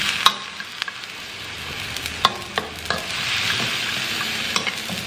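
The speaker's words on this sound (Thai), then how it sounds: "แล้วก็จะผัดตัวผักอันนี้ให้มันสุกก่อนนะคะหรือไม่ก็ให้มันพอนิ่มๆก็ยังดีเนาะ" Cauliflower and broccoli are stir-fried with a splash of water in a pan, a hissing simmer punctuated by irregular clicks and scrapes of a spatula.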